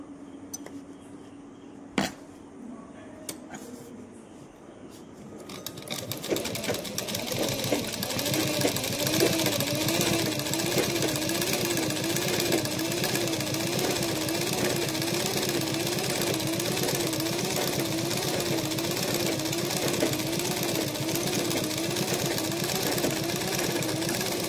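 A sewing machine restitches loosened seams, starting after a few clicks and then running in a close, steady, rapid whirring rhythm that continues without pause.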